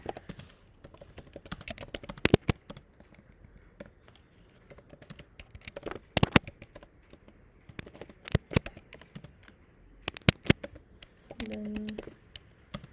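Typing Python code on a computer keyboard: irregular bursts of sharp key clicks and clacks, close and moderately quiet, with brief pauses between runs of keystrokes.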